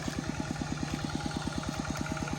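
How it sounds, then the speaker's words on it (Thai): A tractor engine idles steadily on a rural Lao farm, a fast even mechanical chugging, close and continuous with no talk. "with the tractor"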